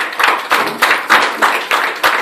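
Church congregation clapping in unison at a Sunday service in Wasmes, Belgium: seven or eight steady, evenly spaced claps, close and crisp, with no talking.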